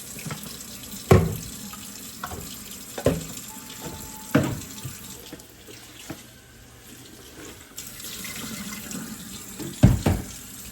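Tap water runs into a kitchen sink while baby bottles are washed, a steady hiss of flowing water broken by several clunks and splashes as the bottles are handled, close by.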